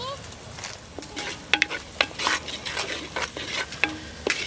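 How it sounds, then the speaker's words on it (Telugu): Mutton pieces fry in a clay pot for a village-style mutton curry, sizzling continuously while a utensil stirs and scrapes them in a quick, uneven rhythm of sharp clinks close by. "ఇది ఇంకా ఎంతసేపు వేగాలి"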